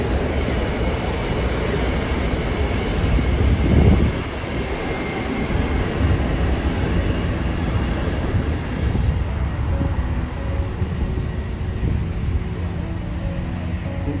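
A train rumbles past at close range, a loud, continuous low roar with wind buffeting around the microphone, swelling early and then settling into a steady wash of rolling noise.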